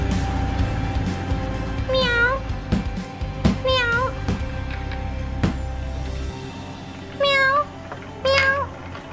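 A kitten meows four times in short, rising-and-falling cries, close and clear, spaced irregularly between thumps and handling noises of toys, with some voice in the background.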